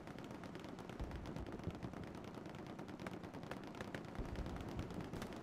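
Dense, continuous gunfire from an 18-versus-18 multiplayer war game match: rapid overlapping shots and machine-gun bursts roll without pause, with heavier thumps scattered throughout and no voices.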